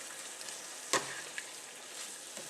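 Green beans sizzle steadily in a frying pan with a little added water, a continuous broadband hiss with one sharp clink near the middle and a couple of faint knocks, close by and without talk.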